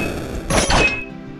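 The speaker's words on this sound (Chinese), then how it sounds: "爆炸！" An explosion goes off in the sandbox game Craft Hero, a short, heavy thudding blast that swells up and fades within about half a second against a steady game soundtrack.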